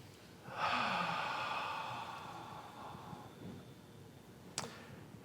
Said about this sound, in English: One more nice deep breath.